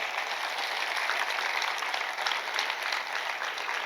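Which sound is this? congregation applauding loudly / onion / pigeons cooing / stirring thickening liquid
congregation applauding loudly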